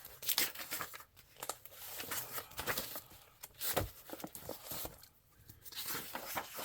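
Paper pieces are torn by hand for a craft project, with several close, uneven rips and crinkles separated by brief pauses and no voices.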